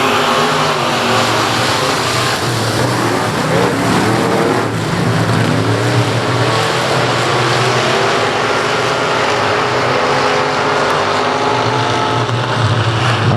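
Race cars roar off the start at South Texas Speedway in October 2016, a loud, dense engine roar that holds steady from start to end with no talk over it.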